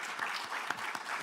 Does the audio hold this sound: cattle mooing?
no